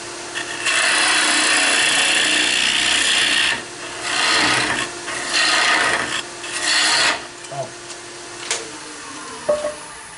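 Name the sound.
lathe tool cutting wood end grain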